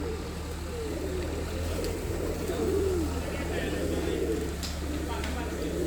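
Prize-winning racing pigeons coo in a loft, soft repeated calls rising and falling under a steady background hum, with people talking nearby.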